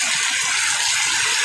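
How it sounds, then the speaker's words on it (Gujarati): Heavy downpour in Rasvali village in Amreli district, Gujarat, a dense, steady roar of pouring rain that stays loud and unbroken throughout, with no voices. "રાસવાળી ગામમાં ધોધમાર વરસાદ।"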